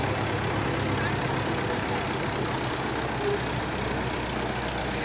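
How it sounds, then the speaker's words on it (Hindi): A 1976 model 165 tractor engine idling in a rural farm setting, a steady low rumble running evenly throughout with no change in pace. "ट्रैक्टर जनाब 165-77 मॉडल"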